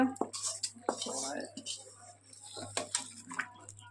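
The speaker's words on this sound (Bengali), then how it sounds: "খিচুড়িতে এবার সম্বারা দিচ্ছি। পেঁয়াজ, রসুন, শুকনো লঙ্কা" Onion, garlic and dried chilli go into a pan to temper khichuri, bringing a series of close metallic clinks and scrapes of a utensil against the pan over a steady low hum, with bursts of voice in between.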